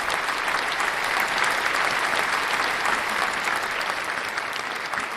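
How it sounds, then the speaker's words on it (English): Steady, dense applause from a crowd of many hands, loud and unbroken for several seconds with a faint murmur of voices underneath. "So let's give it a round of applause."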